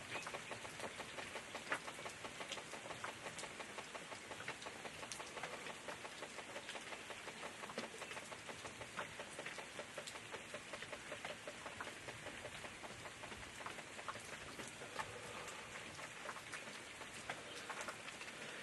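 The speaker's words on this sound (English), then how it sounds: "And because the rain is really horrible, you guys can hear the thunder in the background" Dense, steady rain hisses continuously with scattered sharp patters at Somkhanda Game Reserve, South Africa. A low, faint rumble of thunder sits far in the background.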